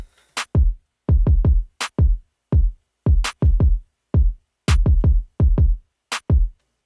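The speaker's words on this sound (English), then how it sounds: "the clap dry sounds like this" Dry, unprocessed clap sample layered over a punchy kick-and-drum groove, sharp bright snaps landing on the backbeat in a steady loop, close and loud, no talking.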